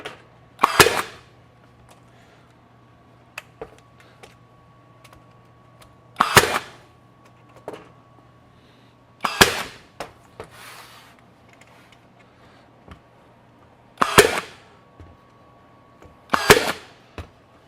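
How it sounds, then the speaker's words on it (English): A Ridgid 18V 16-gauge straight finish nailer driving nails into trim, five sharp, loud snapping shots spaced a few seconds apart over a quiet background with a faint steady hum. "again, shooting a little heavy there"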